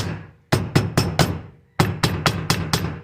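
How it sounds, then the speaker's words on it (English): Two quick bursts of sharp hard taps, four then five in a row, a screwdriver's plastic handle striking a clogged Edelbrock 500 CFM carburetor at close range with no talking. "I'll take the plastic part of a screwdriver, tap around on it,"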